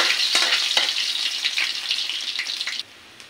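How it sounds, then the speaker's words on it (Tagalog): Ginger frying in a hot pan gives a steady, close crackling sizzle for nearly three seconds, then drops off abruptly to near quiet. "inuuna ko yung luya guys para pumuto siya"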